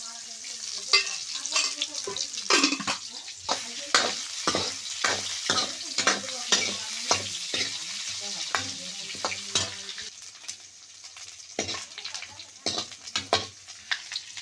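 Dried bombil (Bombay duck) curry with coconut frying in oil in a pan, a steady close sizzle broken by repeated sharp scraping and stirring clicks throughout.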